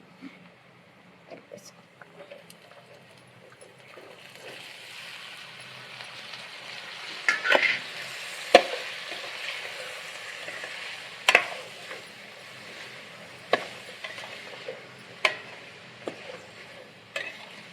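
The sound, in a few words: frying in a pan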